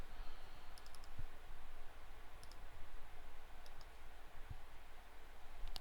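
Computer mouse clicks while working in Fusion CAD software, several sharp close clicks including quick paired double-clicks, spaced irregularly over a faint background hiss.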